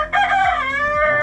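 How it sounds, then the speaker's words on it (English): A big rooster crows once, loud and close, in a quiet village in Nagaland, a single drawn-out call with no other sound. "Big rooster here."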